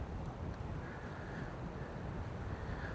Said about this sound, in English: the breeze feels good